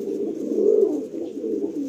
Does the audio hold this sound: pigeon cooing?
yes